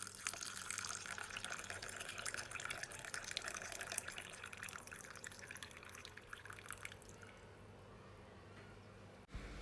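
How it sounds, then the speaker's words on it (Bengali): Ginger lemon tea poured into a cup gives a steady, close trickling stream with a bright splash, running nearly continuously before tapering off and stopping abruptly near the end. "এবার আমি চাটাকে ঢেলে নেব"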